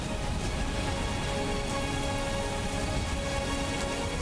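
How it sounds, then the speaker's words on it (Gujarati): Heavy rain driven by strong wind in rural Gujarat pours down in a dense, unbroken roar of drops, loud and uniform throughout. "ભારે પવન સાથે વરસાદ થતાં રસ્તા પર પાણી ફરી વળ્યા છે"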